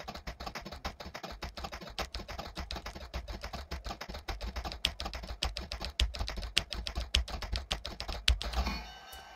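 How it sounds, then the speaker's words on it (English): Fast, continuous typing on a loud mechanical keyboard, a dense close-up clatter of sharp key clacks with occasional heavier strikes. "mechanical, clacky keyboard in these, as opposed to the previous keyboard, which was probably just as loud."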